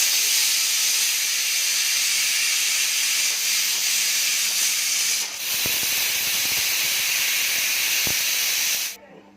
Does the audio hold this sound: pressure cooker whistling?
yes